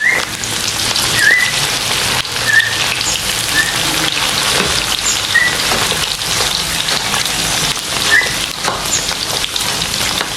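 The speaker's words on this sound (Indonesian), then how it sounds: "Kita goreng jengkol." Jengkol beans frying in hot oil, a steady loud sizzle and crackle that runs continuously with scattered pops and no voices.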